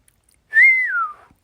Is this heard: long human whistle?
yes